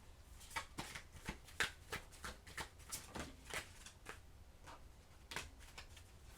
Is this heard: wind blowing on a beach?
no